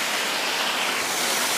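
Laurel Falls waterfall in the Smoky Mountains rushing in a steady, loud, broadband roar that stays unbroken and constant throughout, with no voices over it.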